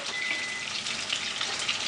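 Steady, close crackling sizzle of eggplant (brinjal) cutlets frying in hot oil over a medium flame, with dense bright popping throughout and no voices.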